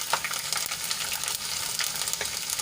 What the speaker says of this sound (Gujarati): અને તેલમાં થોડુંક સાંતળી લઈશું